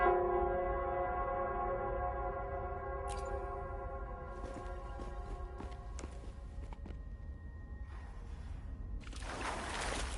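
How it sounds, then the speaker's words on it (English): A bell in the Wuthering Waves video game rings out with long, ringing tones that decay slowly, while footsteps and small clatters sound over the top. "The bell sounds closer now."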